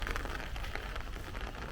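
Heavy downpour during a thunderstorm squall line in Brooklyn, New York, a dense, steady hiss of rain striking surfaces with gusty texture, continuous and fairly close.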